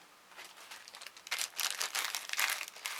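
Crumpled organza fabric crinkles and rustles as it is handled, a close series of soft crisp scrunches that grow louder and denser partway through.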